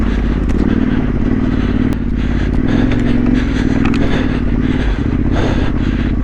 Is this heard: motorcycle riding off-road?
yes